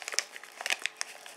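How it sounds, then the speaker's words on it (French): Crinkling of a Movicol powder sachet being handled and poured into a glass, a quiet run of short, close rustles and soft crackles with no talk. "Donc je mets mes Movicol là-dedans, dans un verre."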